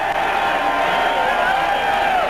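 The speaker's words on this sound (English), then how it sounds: "you can hear the VMI crowd. They are fired up" A fired-up VMI home crowd at a 1989 college football game against the Citadel roars with sustained cheering and whoops, a dense, steady wall of noise from a packed stadium throughout.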